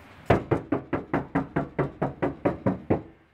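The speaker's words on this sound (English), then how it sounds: "give her a wee tap." Twelve evenly spaced knuckle taps on a plastic-covered car door panel with a speaker mounted behind it, each a short dull knock, close and alone with no talk.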